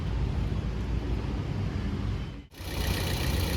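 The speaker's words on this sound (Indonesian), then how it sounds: "Nah, ini suara mesinnya nih." A 2012 Toyota Yaris S Limited idles nearby with an even, moderately loud hum; the sound briefly cuts out partway through, then resumes brighter and steady, with no talking.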